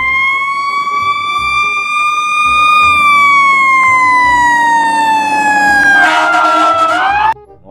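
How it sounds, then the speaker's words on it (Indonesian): A loud, close electronic siren from a toy fire truck wails in long rising and falling sweeps, growing harsher near the end before cutting off abruptly. "Mobil pemadam kebakaran"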